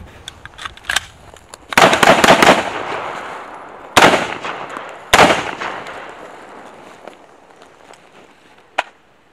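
Gunfire in a flank shooting drill on a range: several sharp, loud shots with two tight bursts in the first half, then spaced single reports tapering off with a last isolated shot near the end, each leaving a decaying echo.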